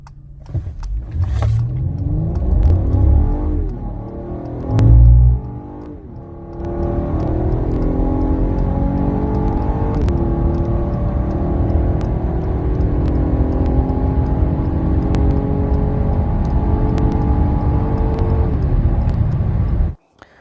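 A car on lightweight wheels launches hard in a 0-60 run without brake boosting. The engine drone climbs steadily and loudly through the gears for about twenty seconds, then cuts off abruptly.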